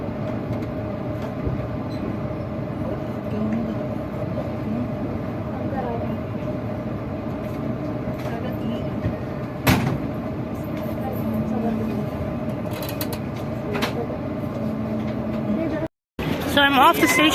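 A train stands at Karachi Cantt station, its low steady rumble and hum continuing under a busy platform, with occasional clanks, a brief dropout near the end and people talking.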